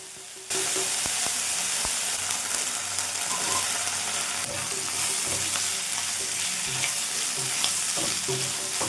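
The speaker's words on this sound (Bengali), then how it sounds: "এবার আদা রসুনের পেস্ট দিলাম এক চামচ এই একই তেলে" Ginger garlic paste frying in oil in a pan, a loud, close, steady sizzle that starts abruptly and keeps going, with frequent clicking scrapes of stirring throughout and no talk.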